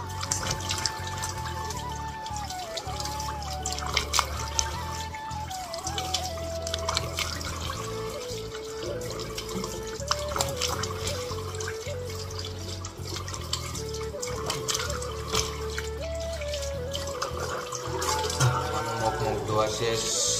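Tap water runs and splashes steadily while a face is washed at a sink, with trickling and dripping throughout and a person talking over it.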